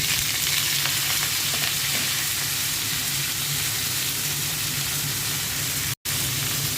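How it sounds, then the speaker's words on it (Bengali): Bitter gourd and potato frying in a pan, a loud, continuous hissing sizzle that holds steady throughout, with a brief dropout near the end. "করলা আর আলু দিয়ে দিচ্ছি।"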